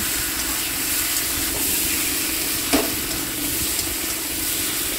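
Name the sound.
potatoes frying and being stirred with meat masala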